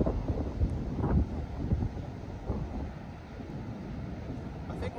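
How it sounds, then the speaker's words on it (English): High wind gusts across an open golf course, a moderate rushing and buffeting over the microphone that swells and eases, with some talk mixed in. "We're straight into the wind."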